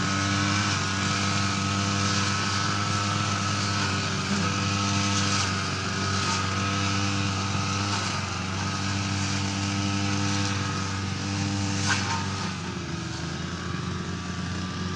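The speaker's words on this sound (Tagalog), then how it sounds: "Si kapakner ay nag-grass cutter pa rin." A grass cutter (string trimmer) cuts grass in a bean field: a steady, droning small two-stroke engine whine held at near-constant pitch, loud and close throughout with slight dips in load.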